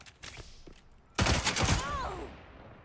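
Shots from a sniper rifle in a first-person shooter game come as a sudden loud burst of gunfire after quieter clicks and movement sounds, followed by a ringing tail.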